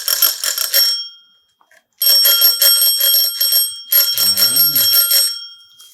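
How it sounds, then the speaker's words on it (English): A unicorn-themed bell on a girls' Walmart bicycle rings in three loud, rapid bursts of metallic trilling, close up and separated by short pauses. "Give us a ring on the bell so we can hear what it sounds"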